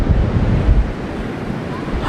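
Sea waves wash onto Nagaon beach, with wind buffeting the microphone in a steady, loud roar that swells and eases over a couple of seconds.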